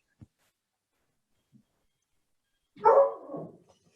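A dog barks once, close and fairly loud, during a virtual breakfast call, the bark trailing into a short whine, with faint soft taps beforehand and silence around it.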